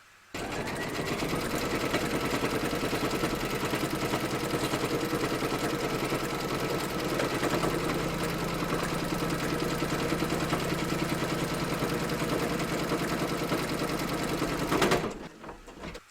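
An embroidery machine runs steadily as it stitches out a bellpull design, giving a continuous fast mechanical whirring and needle clatter that stays loud and even for about fifteen seconds before stopping abruptly.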